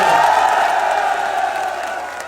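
A large crowd at an outdoor political rally, a Bhaichara Sammelan in Chandpur, Bijnor, Uttar Pradesh, roars and cheers in one loud, sustained wash that slowly fades.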